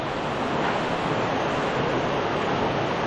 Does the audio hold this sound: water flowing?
yes